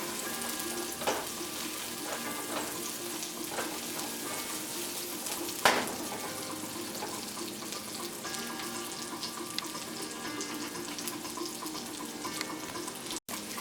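Onions frying in a pan while being turned, browning lightly: a steady, close sizzle runs throughout with occasional stirring clatter and one sharp knock near the end.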